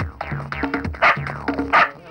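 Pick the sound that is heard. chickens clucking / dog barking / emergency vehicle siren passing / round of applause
dog barking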